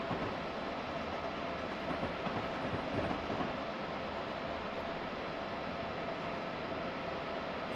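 A train simulator's passenger train runs on tracks on a route toward New Haven, with a continuous low rumble and hiss of wheels on rail, faint and steady without speech.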